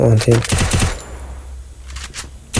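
Gunfire in the mobile shooter game Free Fire rings out as a quick burst of several rapid shots at the start. A voice talks over the shots, and the clip trails off into quieter game ambience with a few later pops.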